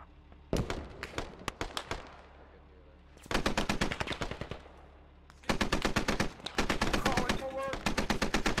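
Heavy gunfire in the military shooter Squad, with scattered single shots giving way to long, loud automatic bursts that stop and start, and a voice talking briefly between them.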